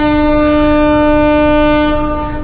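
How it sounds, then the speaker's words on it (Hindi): A Kashi Vishwanath Express train sounds its horn before pulling away again: one long, steady, loud blast held for the whole stretch, close by, fading slightly at the end. "हॉन्क बज गया वापस निकलने का।"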